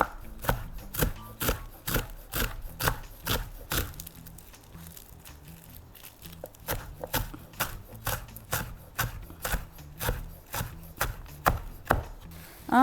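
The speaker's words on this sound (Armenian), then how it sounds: "ես արդեն կարող եմ իմ ազատ գեղը կամ մաղդանոսը կտրատել" A knife chops fresh dill or parsley on a board in a home kitchen, with quick, rhythmic, close-up knocks in steady bursts and a brief lighter stretch midway. No one speaks.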